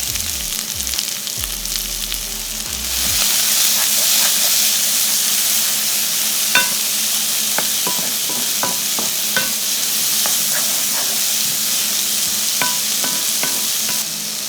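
Garlic and onions frying in sesame oil in a hot pan, a loud continuous sizzle that swells after a few seconds, with scattered clicks and stirring scrapes and no talking.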